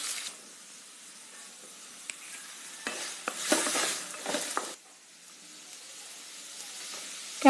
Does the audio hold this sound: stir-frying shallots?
yes